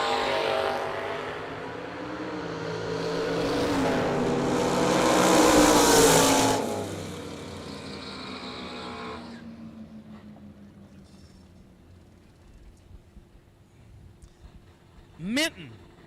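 Drag race cars launching at the IHRA World Finals, a 72 Nova in one lane and a big Chevelle in the other, roar loudly for several seconds, then fade as they pull away, leaving lingering engine noise.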